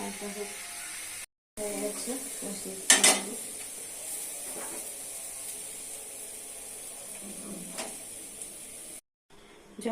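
Cauliflower cooking in oil in a pan with water added, a steady sizzle with scraping stirs and a sharp splash as the water hits, under a background voice, with a couple of brief silent gaps.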